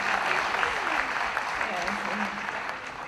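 Audience clapping at a certificate presentation for a banana sector retraining project in Jamaica, a fairly loud, continuous patter that tapers slightly toward the end, with a short spoken word over it.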